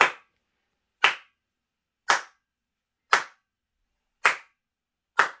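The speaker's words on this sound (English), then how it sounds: "So this clap test here is a good example of how bad this room sounds" Single sharp hand claps echo in an untreated apartment bedroom, six evenly spaced strikes about a second apart, each followed by a short ringing decay.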